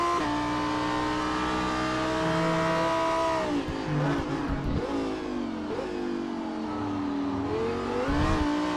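The number 203 Lamborghini race car engine, heard from the cockpit at Laguna Seca in a Super Trofeo race, revs hard and loud, with sharp drops and rises as it shifts and brakes.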